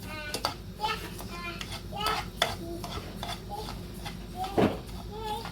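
Millet and almonds dry-roasting in a pan, stirred with a spoon in soft scraping strokes, with occasional clinks and a low crackle beneath intermittent voices nearby.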